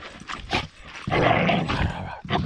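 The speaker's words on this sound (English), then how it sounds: "Such a mean dog" A playful dog growls and snarls in short bursts during a camping trip, one longer rumbling growl in the middle, close up, with a person's voice mixed in.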